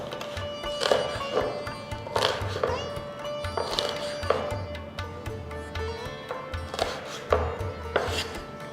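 Ridge gourd peels being chopped with a knife on a board in a home kitchen, a run of quick, close knife taps and thuds in uneven bursts over a low background hum.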